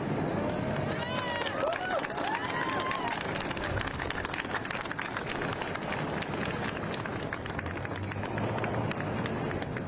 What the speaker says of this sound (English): please join me in a round of applause to celebrate Michelle's life